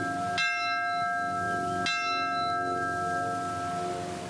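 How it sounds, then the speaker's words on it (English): Two slow, resonant strikes of a bell rung by a fire and rescue department at a Memorial Day remembrance, each ringing out with a long, shimmering decay, the second following about one and a half seconds after the first. "Lincoln Fire and Rescue even ringing a bell, symbolizing those who gave their lives to protect others."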